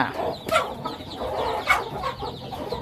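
A young Thai gamecock, offspring of a noted fighting sire, clucks and calls close by in a short outdoor stretch with steady farmyard background and no talking.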